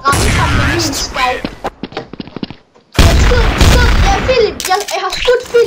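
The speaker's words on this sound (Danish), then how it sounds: "Jeg har skudt Philip i hovedet" Gunfire in a video game rings out in loud, repeated bursts and booms with short gaps between them, mixed with voices.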